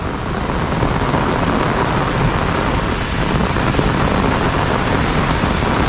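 Heavy unseasonal pre-monsoon rain pours down over fields in the Mumbai–Thane area in a dense, constant roar, with low rumbles of thunder rolling underneath; no voices.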